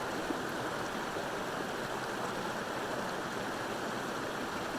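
A stream rushes in a steady, unbroken roar of raging water. It sounds close and full and goes on without a break, with no voices.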